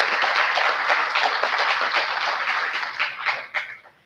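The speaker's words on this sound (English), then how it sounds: "a big round of applause for the Chief Guest" A university audience applauds to welcome the chief guest at a valedictory session, a dense, steady wash of many hands clapping that holds for several seconds before thinning out and fading near the end.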